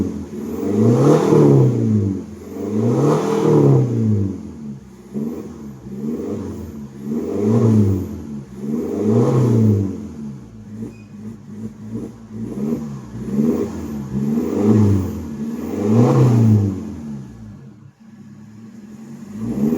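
Hyundai Tucson engine with full exhaust and resonator, revved repeatedly in rising and falling sweeps about every two seconds, deep and loud from close by, with a brief settle to idle before the final revs.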